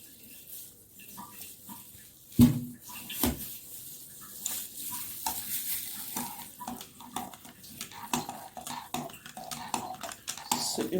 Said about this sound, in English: you're going to keep gradually adding and stirring until it is all nicely incorporated